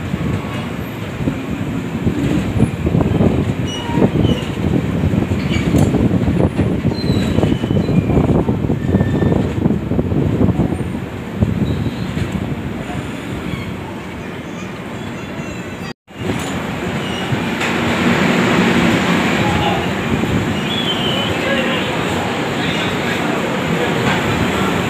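Train 04651 from Delhi to Amritsar rolls slowly through Jalandhar City station without stopping, giving a loud, steady rumble of wheels with rhythmic clacks and squeals. After a short dropout the sound returns with a brighter hiss as the run continues.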